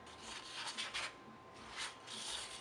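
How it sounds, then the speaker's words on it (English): Scrapbooking paper being trimmed down with a paper trimmer or blade, giving short close rasping slides in a few soft strokes. The sound is quiet and there is no talk. "So we also need to trim this one down."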